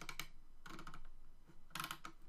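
Computer keyboard typing in three quick bursts of clustered key clicks separated by short pauses, close and fairly soft, with no talking.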